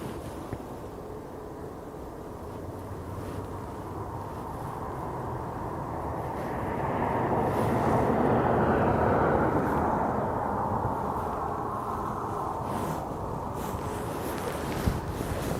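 An A320 passenger plane running late on departure from Aberdeen Airport to London, a low distant engine rumble that swells to a broad roar midway and then eases, with wind noise throughout.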